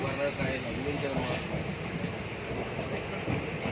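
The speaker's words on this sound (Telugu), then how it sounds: "చూడండి ఇలా ఉంటుంది అనమాట పెట్రోల్ ట్రైన్" A freight train of petrol tanker wagons rolls past close by, a steady loud rumble with rhythmic clacking of wheels on rail joints that continues without pause.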